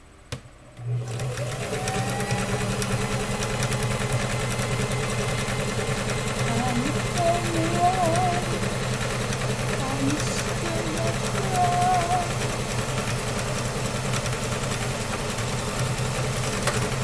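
A sewing machine runs steadily for the whole stretch, a continuous close mechanical whir and hum with a faint rattle, with singing over it throughout.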